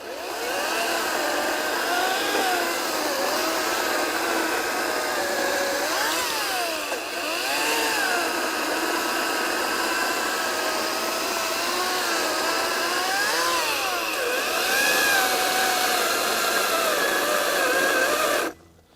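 A Ryobi RY40508 40V 18-inch battery chainsaw cuts through logs, its steady electric motor whine running loud and continuous for the whole stretch, with pitch dipping and rising as the chain bites into the wood, then cutting off abruptly at the end.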